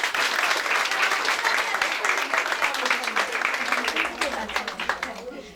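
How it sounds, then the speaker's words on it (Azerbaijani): Sustained audience applause for children at a school event, dense steady clapping from a large crowd throughout, thinning slightly toward the end. "Və bir də alqışlar uşaqlarımıza."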